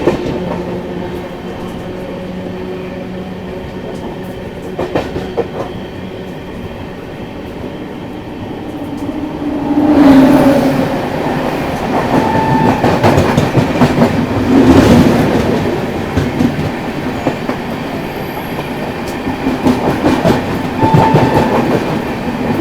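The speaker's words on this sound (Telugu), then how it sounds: "ఆపోజిట్లో అయితే మన పేరు ట్రైన్ అయిన గౌహతి ఎస్ఎంఈటీ సూపర్ ఫాస్ట్ అయితే వస్తుందండి" The Guwahati SMVT superfast express rolls in on the opposite track, a loud, building rumble with rhythmic clickety-clack of wheels over rail joints and faint squeal, swelling and sustained without talk.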